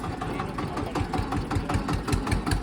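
Tractor engine idling steadily near rural farm fields, a rhythmic mid-low chugging pulse with even knocks, moderately loud and continuous, no clear talking.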